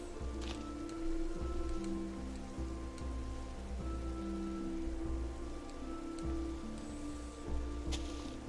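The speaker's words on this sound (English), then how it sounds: "And the rain." Rain falls in the Minecraft video game, a steady soft patter of drops heard under game sounds and faint tonal effects, continuous and moderately quiet throughout.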